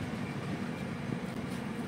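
A weekly express train pulls into Teliamura railway station in the evening, a steady low rumble of wheels and carriages rolling on without a break, moderately loud and fairly close, with no voices.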